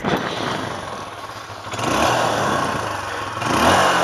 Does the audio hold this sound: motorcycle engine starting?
yes